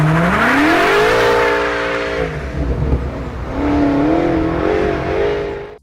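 BMW M8 Competition with a 4.4-liter twin-turbo V8 revving loudly and close, pitch sweeping up through several gear pulls, with a short dip before it climbs again.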